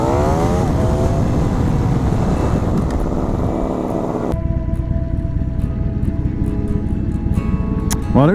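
A Harley-Davidson Sportster motorcycle out on a ride, its engine droning loudly throughout, with the revs climbing and then dropping as it shifts, under strong wind rush.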